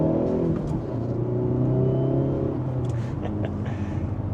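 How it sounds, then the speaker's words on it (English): A 2025 Hyundai Elantra N holds a steady, loud exhaust drone, with a few small crackling pops breaking through near the end. "Little pops on the exhaust."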